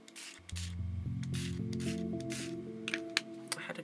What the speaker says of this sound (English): I'm just gonna spray some colour on there, shake it up